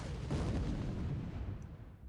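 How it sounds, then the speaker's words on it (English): A deep rumbling blast rolls on for a couple of seconds, a heavy low-end boom from a shell hit and internal explosion aboard a warship in the naval combat game War in the Pacific. "Another belt pen, internal explosion."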